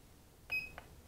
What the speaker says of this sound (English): the display will start beeping at you